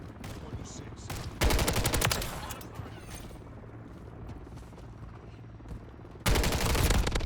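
Rapid bursts of automatic gunfire in Call of Duty MW3 multiplayer during a hardpoint match. One loud burst around the second second and another at the end, with quieter game ambience and faint mechanical clatter between.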